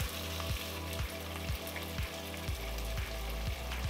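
Spiced yogurt added to seared chicken in a pan over medium-low heat gives a loud, steady, close sizzle with a regular rhythmic thumping pulse under it.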